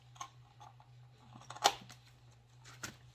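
Scissors snip a tape tab on a homemade pocket planter: a few quiet, sparse clicks and one sharper cut near the middle, with a low hum underneath.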